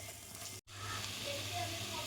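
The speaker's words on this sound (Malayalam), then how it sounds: "ഇതിലേക്കിനി അല്പം തക്കാളി സോസ് ഒഴിച്ച് കൊടുക്കുക" Tomato sauce sizzling in a hot pan for fried rice, a steady close hiss broken by a brief cut before continuing evenly.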